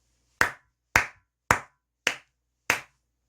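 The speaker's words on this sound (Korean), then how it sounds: "너무나 기분 좋은 소식이기 때문에 크게 박수 한번 치고 가도록 하겠습니다." Five sharp, loud hand claps at an even, unhurried pace, close by and alone against silence.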